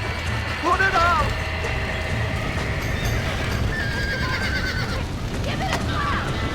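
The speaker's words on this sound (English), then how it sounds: "Now get the horses out!" Horses in the Red Dead Redemption video game give two clear whinnies amid a steady rumble of hooves and background bustle, with a faint voice underneath.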